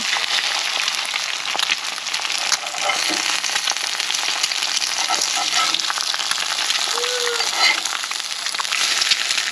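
Eggs fry in a cast iron pan with a loud, steady sizzle and crackle that runs the whole time, close up, and no one speaks over it.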